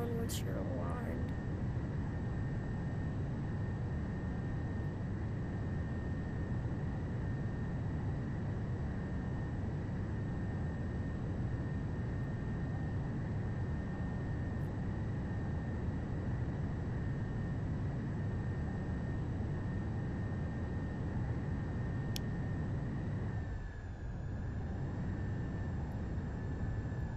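Airplane engine in the video game SimplePlanes at low throttle, a steady droning hum with a constant whine that holds nearly unchanged throughout and dips briefly near the end.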